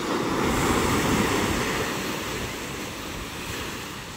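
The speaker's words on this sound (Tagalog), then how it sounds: "Lalaki ng ating alon, no?" Big ocean waves crash and roll at a fish terminal in Tanza, Cavite, in a continuous roar, loud and close, with wind buffeting the microphone.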